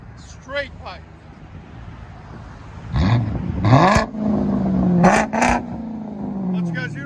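A BMW 545i V8 with a straight-piped exhaust revs up in several sharp, loud bursts, then settles into a falling drone, heard close by with brief voices in between.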